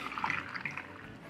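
Liquid, Propper Starter wort for a yeast starter, is poured back into a container, giving a brief splashing, gurgling trickle at close range with no talk.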